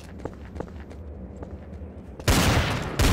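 Sniper gunfire in the Trouble in Terrorist Town video game: faint footsteps and soft clicks at first, then a sudden loud, broadband blast of fire that carries on to the end.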